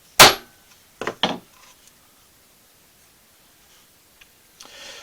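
Chisel struck into wood grain, opening with one sharp loud crack followed by two quicker knocks, then scattered faint taps and a soft scraping rustle in an otherwise quiet space.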